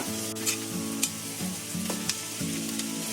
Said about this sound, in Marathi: दोन मिनिटं चांगली भाज्या फिरवले